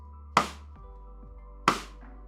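Two sharp cross-stick hits on a snare drum played with the drumstick flipped around, each a crisp woody knock with a short ringing tail, spaced over a second apart against a low steady hum.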